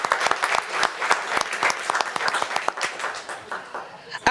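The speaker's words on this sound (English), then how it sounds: "Let's give them all a round of applause" Audience applause at a city commission meeting honoring youth sports teams and their parents, a lively crowd clapping with sharp individual claps standing out, sustained through the whole short stretch.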